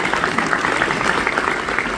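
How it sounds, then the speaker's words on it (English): An audience at an official ceremony claps steadily, a dense and even wash of applause filling the short moment without any pause. "but we give him a clap"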